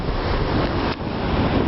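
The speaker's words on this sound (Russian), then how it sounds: "Вот так сильно шумит ветер, даже тяжело говорить." Strong hurricane-force wind roars across the open boat deck of the ship MV Celestine, a loud continuous broadband rush that buffets the microphone, dipping briefly before surging back.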